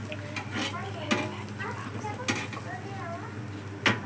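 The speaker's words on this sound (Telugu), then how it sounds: "నేను టర్న్ చేసుకొని పచ్చివాసన పోయేంత వరకు కాల్చుకోవాలి." A bread omelette sizzles and toasts in a pan, a steady frying hiss punctuated by a few sharp clinks of a utensil against the pan, close and moderately loud.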